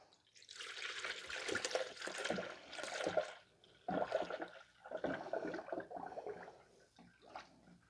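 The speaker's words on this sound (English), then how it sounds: "So pour in the coolant." Aftermarket coolant poured into the engine of a 2009 Subaru Impreza 2.5 SOHC EJ253, a close, steady gurgling splash of liquid in uneven surges with brief pauses, no talk.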